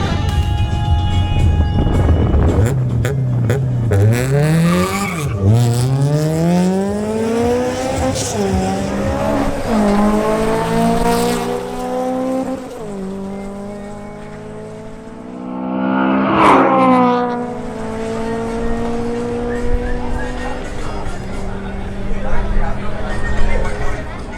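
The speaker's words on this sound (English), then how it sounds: "Next, Andres Sepulveda in his BMW M240i makes another run." A BMW M240i launching on a drag strip, its engine loudly revving through rising gear-by-gear sweeps with shift breaks, tires squealing, under crowd noise and a commentator talking.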